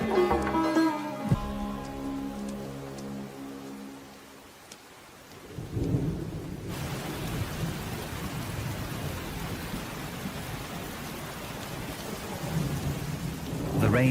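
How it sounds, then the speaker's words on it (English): Thunder rumbles and cracks over steady rain pouring onto the ground in desert mountains, the downpour continuous and loud with deep rolling booms at the start and end. "The rain runs off the mountains, building momentum as it descends to the valley floor."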